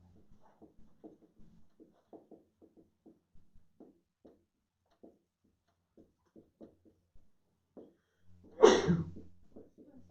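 A single sharp sneeze bursts out near the end of a quiet stretch dotted with faint ticking and tapping sounds, one loud sudden blast that fades quickly.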